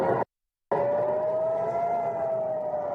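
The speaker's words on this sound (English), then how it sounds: "Rocket warning sirens wail in the southern Israeli city of Ashkelon" A rocket warning siren in Ashkelon, Israel, wails loud and sustained as a long, steady tone, broken only by a brief silent gap near the start.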